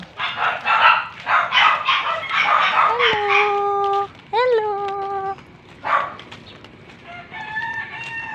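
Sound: dog

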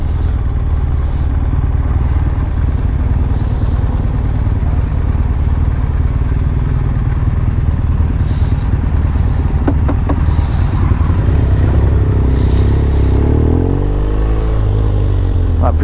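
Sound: 2015 BMW R1200R motorcycle riding

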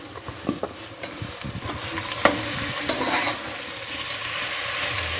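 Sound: country chicken frying and stirring in oil

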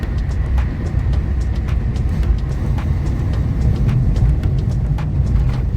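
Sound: cars and trucks driving through the Kashedi tunnel

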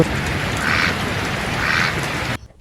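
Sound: duck quacking in a cartoon

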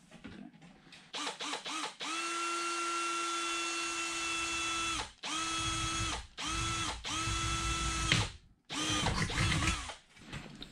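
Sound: power drill drilling hole in stove pipe

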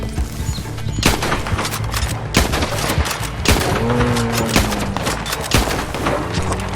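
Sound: gunshots in a video game

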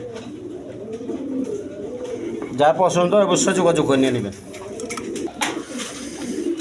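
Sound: Gobin pigeons cooing

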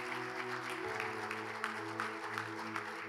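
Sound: congregation applauding in church

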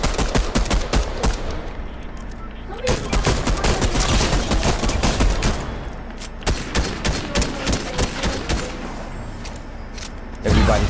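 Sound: gunfire in Fortnite video game

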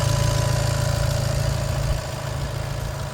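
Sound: Volkswagen Crafter van engine idling

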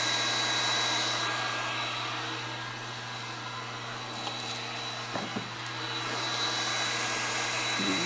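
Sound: cooling fans running on a DIY 24V solar generator

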